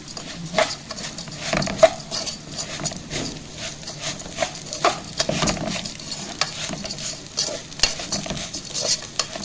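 Rice browning in a pot sizzles steadily while a spoon stirs it, with repeated scraping and clinking strokes in an irregular rhythm, close and loud.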